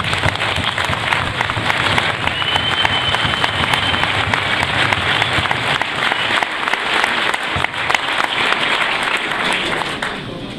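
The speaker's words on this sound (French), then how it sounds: "je vous demande d'applaudir Ali" A crowd claps steadily and densely for about ten seconds, applauding two cantinières, Ali and Marion, at the enthronement ceremony of a new drum major in Leffrinckoucke.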